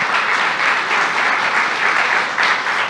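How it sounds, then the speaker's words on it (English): A steady, loud round of applause fills a court adoption day ceremony, many hands clapping densely and evenly for the whole stretch without a break. "So let me give them a hand and a round of applause."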